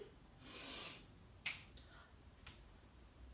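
Finger snaps in an indoor yoga lesson: after a soft rustle, one crisp, close snap rings out, followed by two lighter snaps spaced apart.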